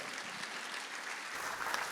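Audience applause at a memorial concert marking 45 years of the Memorial Ossuary in Veles, a steady wash of many hands clapping, fairly distant and faint.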